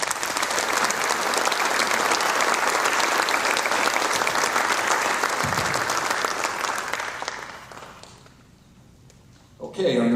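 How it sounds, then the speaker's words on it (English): Big round of applause from an audience at a high school athletic hall of fame induction ceremony in Canal Fulton, Ohio, loud and steady for about seven seconds before tapering off into near quiet, with a brief bump at the end. "please welcome him into our Hall of Fame with a big round of applause"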